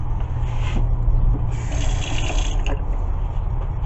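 A steady, continuous rush of running water in a built bathroom in a video game, moderately loud and alone, with faint mechanical clicks in the background.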